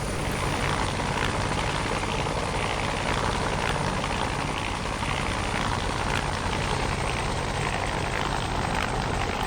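Bell 430 helicopter in a flight simulator, its engine and rotor giving a loud, continuous turbine whine and thrum with steady rotor chop, unbroken throughout.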